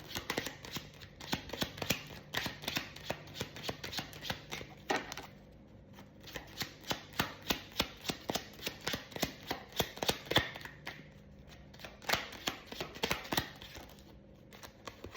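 Tarot cards shuffled by hand, a long run of quick crisp riffling flutters and taps in uneven bursts with brief pauses, close and fairly quiet, with no talk.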